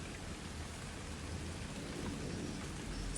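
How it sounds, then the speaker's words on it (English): Steady rain falls with a deep rumble of thunder underneath, a dense continuous wash of noise at moderate level with no voices. "I hope you are enjoying the beautiful soothing sound of the rain"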